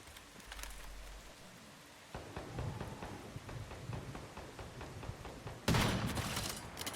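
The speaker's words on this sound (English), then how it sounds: "Somebody is shooting." Gunfire in the survival shooter Once Human, heard as a rapid crackling stream of shots, fairly distant, that grows denser midway before a louder, closer burst near the end.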